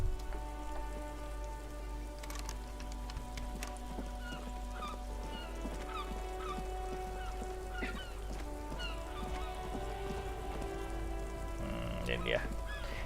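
Steady rain falls in the video game Disco Elysium, a constant hiss that runs through the whole stretch with faint honks and scattered ambient tones on top, at a low level.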